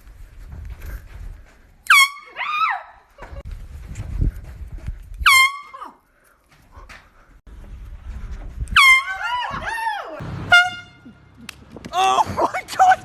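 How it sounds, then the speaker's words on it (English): Several loud, piercing air horn blasts go off from under a car's back seat as a prank, short bursts followed by longer wailing ones, with startled voices and shuffling in between. "Put the air horn like far back"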